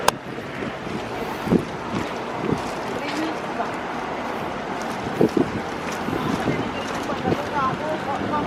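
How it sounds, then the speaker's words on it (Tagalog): Strong winter wind in Hsinchu, Taiwan buffets the microphone with a constant roar and occasional gusts. "Lakas na hangin."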